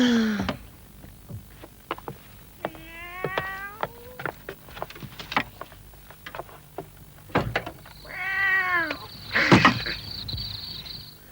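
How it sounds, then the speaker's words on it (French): A cat gives a couple of drawn-out, wavering meows amid scattered clicks and knocks, with a faint steady hum behind. "Oh, ce sale matou encore."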